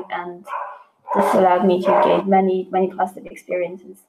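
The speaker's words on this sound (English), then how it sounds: "Sorry, that's my dog." A dog barks a few times in the background while a person keeps talking steadily in the foreground.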